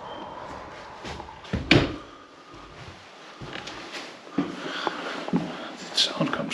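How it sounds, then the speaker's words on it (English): An unattended door moves by itself inside a building, giving a sharp bump and rattle followed by softer knocks and rustles, close by, with low voices and movement throughout. "That door is moving by itself."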